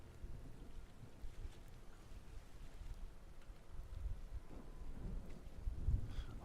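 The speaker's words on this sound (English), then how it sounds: "Oh, it's raining. You almost can't even see it." Faint rain and low rumbling thunder in the Warframe video game, a quiet steady wash with soft low rolls that grow slightly toward the end, no talk.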